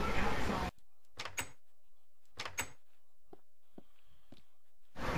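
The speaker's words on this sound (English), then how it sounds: "And then just close the door behind you down there." An indoor door, in a building that combines a theater with a church, is shut with a few separate knocks and thuds as it settles into its frame, and a final bump follows after a short pause. No one is talking.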